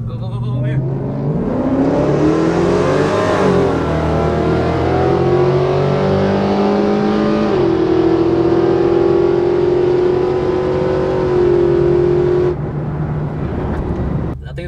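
Pickup trucks at a drag race rev loudly and accelerate away, the engine roar sustained and rising in pitch for most of the stretch before easing off, with people talking over it.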